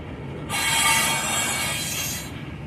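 Freight train cars rolling past, including refrigerator cars, with a loud high-pitched wheel squeal that rises sharply, holds for nearly two seconds over a rumbling roll, then cuts off, no talk.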